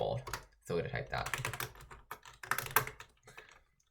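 Fast computer keyboard typing in bursts as a short message is entered into a code editor, close and fairly loud, with brief pauses between runs of keystrokes and no voice.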